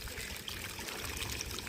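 Water is poured onto a freshly laid brick wall to cure it, a faint continuous splashing trickle over steady broadband hiss with no voices.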